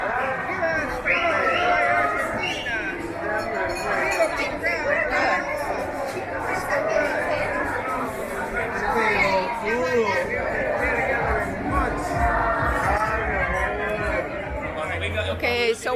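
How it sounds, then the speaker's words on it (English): A Spanish street crowd is partying after Spain beat Portugal, with a dense continuous babble of many voices chattering and shouting nearby, steady throughout. "the big fun crowd that were really partying it up and having a hell of a hoot"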